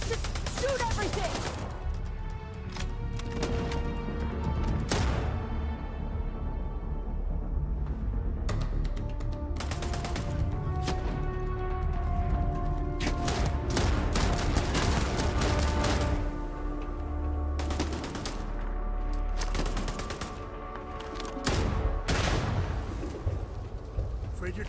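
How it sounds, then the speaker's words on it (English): Gunfire from a firefight in the video game Starfield, with repeated sharp shots and bursts landing over a steady backdrop of game sound and music, loud and busy throughout. "Just shoot everything!"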